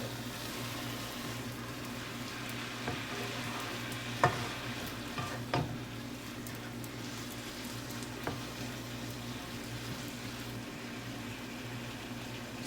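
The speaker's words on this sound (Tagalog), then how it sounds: "So, ilalagay natin yung pork. Slice pork. So, i-mix natin." Sliced pork frying in a pan for soup noodles gives a steady, soft sizzle. It is stirred and mixed, with a few light scrapes and knocks of the spoon, close and quiet.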